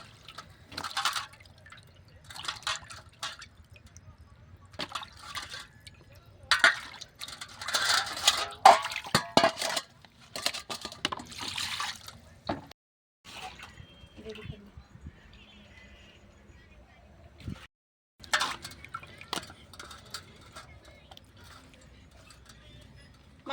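Splashing, dripping water from a hand pump pours over a rohu fish being washed clean, coming in uneven bursts with brief pauses, while a voice talks over much of it.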